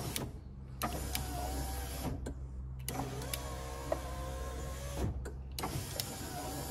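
Driver-side power window on a Fiat 147 motoring down with a steady electric whine, broken by a few clicks and knocks, recorded close inside the cabin.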